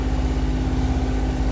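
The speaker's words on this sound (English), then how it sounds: "fingers crossed we can shut this motor off, because I am so tired of listening to it" A boat motor drones steadily and continuously with a low, constant hum and a steady tonal whine, close and unchanging throughout.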